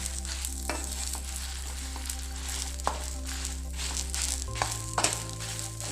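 Two spoons of coriander seeds fry lightly in a pan for Mangalore-style bangude fish pulimunchi, giving a steady close sizzle with scattered soft stirring scrapes and a few sharper ticks, no voices over it.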